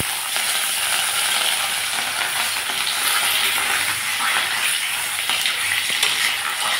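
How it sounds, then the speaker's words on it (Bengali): Fish sizzles loudly and steadily in hot mustard oil in a wok, a dense continuous frying hiss with faint crackles and no talk. "মাছগুলোকে এখন আমি ভেজে নিচ্ছি।"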